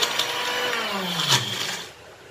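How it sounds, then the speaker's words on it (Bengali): A small blender jar whirs while grinding bottle gourd peel into bharta, a short steady motor whine with a couple of brief surges before it winds down. "আমি ব্লেন্ডারের এই ছোট জারটাতে দিয়েছি যেটাতে আমরা সাধারণত মশলা করে থাকি"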